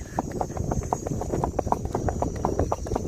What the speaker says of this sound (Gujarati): આજે કરી હોર્સ રાઇડિંગ